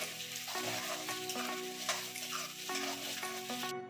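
Onions sizzle in hot oil in a wok as they turn lightly brown, a constant close crackle and hiss over a quiet musical backdrop.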